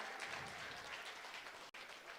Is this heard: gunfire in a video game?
no